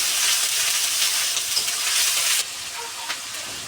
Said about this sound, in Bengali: পেঁয়াজটাকে এখন সুন্দর করে ভেজে নেওয়া হবে যেন পেঁয়াজ থেকে কোনো কাঁচা গন্ধ না আসে